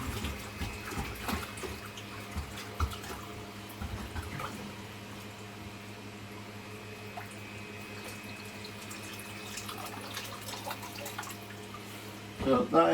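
Water poured onto rock while filling a nano marine tank runs in a steady, soft trickle and splash for several seconds, fairly close, with faint talk beneath and a louder burst of splashing at the end.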